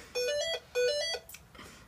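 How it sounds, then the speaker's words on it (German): A telephone rings with two electronic ringtone bursts in a steady pattern, then a fainter tail, heard at moderate distance. "Jetzt klingelt das Telefon."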